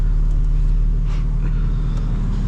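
A 2025 BMW M4 Competition idles while parked, a steady deep engine rumble holding constant and loud, close by, with no talk over it.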